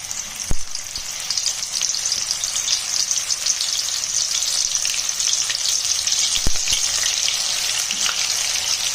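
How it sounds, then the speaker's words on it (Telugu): Meal maker pakodi frying in hot oil, a steady dense sizzle and crackle running throughout, close and fairly loud, with a couple of sharp clicks near the start and middle. "మనం ఇదంతా చేస్తున్నప్పుడు ఆయిల్ ఫ్రై అయిపోయింది ఒకటొకటి ఫ్రై"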